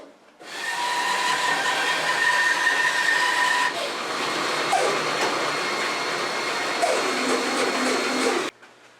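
Power saw cutting waste off a bone-dry block of wood held in a small V-block miter sled, a steady loud whining roar for about eight seconds that dips briefly midway as the blade passes through, close by.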